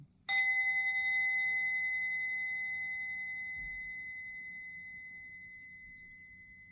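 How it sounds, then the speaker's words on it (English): A mindfulness bell rung once in a quiet room during a breathing practice: a single clear strike followed by a long, pure, slowly fading ring that lingers for several seconds with no voices. "I'm going to ring the bell again."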